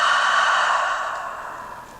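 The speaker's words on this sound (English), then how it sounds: "And just slightly constrict the back of the throat. It's called Ujjayi Pranayama, or breath of victory." A single long Ujjayi Pranayama exhale is pushed through a constricted throat, a close, breathy hiss like fogging a mirror that starts strong and slowly fades over about two seconds.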